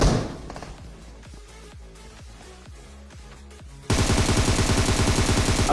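Video game gunfire, first as a rapid string of close, sharp shots in a fast rhythm, then a louder, denser burst of automatic fire toward the end.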